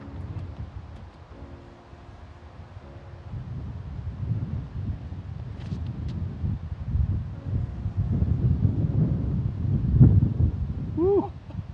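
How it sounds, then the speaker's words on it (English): Strong, gusty wind blows across a lakeside disc golf course at Lake Tekapo, buffeting the microphone in uneven rumbling surges that build toward the end, with brief voices. "Funky wind, eh?"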